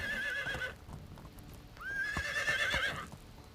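A horse whinnies in the medieval life-sim game Medieval Dynasty, one close neigh followed by a second longer one, with faint hoof clops in between and no talking.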